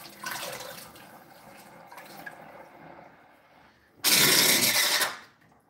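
Water runs from a tap while dishwashing water is changed: a weaker trickle first, then a loud full-force gush for about a second that fades away.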